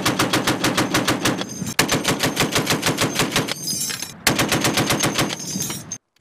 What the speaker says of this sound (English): The M2, also known as the Mod Deuce or 50 cal, is a heavy machine gun that was first developed by John M. Browning in 1918